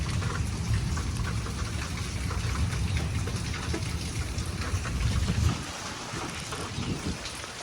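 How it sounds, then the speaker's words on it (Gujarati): Rain and wind in Devbhumi Dwarka: a constant roar of gusting wind buffeting the microphone mixed with falling rain, loud and unbroken, with the low rumble dropping away near the end. "ઓહો, પવન ને વરસાદ ચાલુ જ છે"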